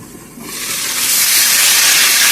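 Chicken browning on a low flame in a covered pot in a Jamaican home kitchen gives off a close, loud sizzling hiss that swells after a brief quieter start and then holds steady.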